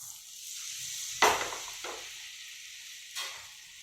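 Spices and asafoetida sizzling in hot oil and butter for sarson ka saag, with a sharp burst as they hit the pan, then a softer crackle and a second brief flare.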